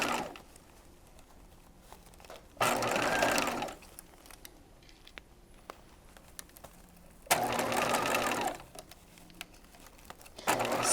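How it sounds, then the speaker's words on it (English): Sewing machine basting a seam with a 4mm stitch length along a garment's upper edge, running in two steady buzzing bursts of about a second each, with quiet pauses and small handling noises between them. "So I'm basting, I'm using that 4mm stitch length, basting along the upper edge here."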